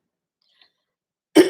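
After a near-silent stretch, a person gives a single short, loud cough close up at the very end.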